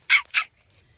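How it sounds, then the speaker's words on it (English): A dog gives two quick sharp yips or barks close by, a brief pair of bright bursts followed by quiet. "that's our dog"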